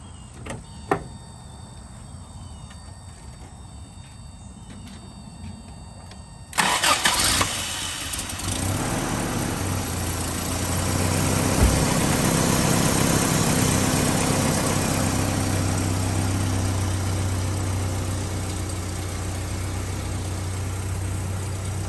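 A 1985 Toyota pickup with the 22RE engine cranks briefly and catches, then settles into a steady, fairly loud idle that carries on to the end, heard close with no talk.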